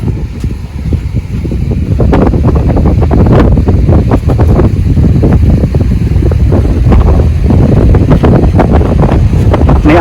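Cold wind buffets the microphone loudly and steadily at the Mount Pinatubo crater lake in Botolan, a constant roaring rush with gusty low rumble and no talk.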